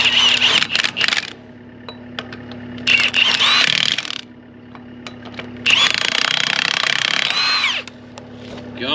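A Milwaukee cordless impact tool tightens the wheel nuts on a small trailer in three loud, close bursts of rapid hammering, separated by quieter pauses with faint clicks and handling noise.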